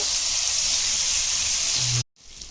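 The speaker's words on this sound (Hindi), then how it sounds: "अभी पहले हल्दी डालेंगे, अभी करी पत्ता डालेंगे, इसको भूनेंगे" Turmeric and curry leaves frying in hot oil in a pan with tomato, a steady loud sizzling hiss that cuts off abruptly, then quieter sizzling resumes.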